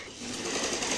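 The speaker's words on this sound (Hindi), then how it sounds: "इधर देखो मैं लगाता हूँ सिलाई" A sewing machine runs steadily as it stitches cloth, its continuous whirring motor close and fairly loud across the whole short moment with no pauses.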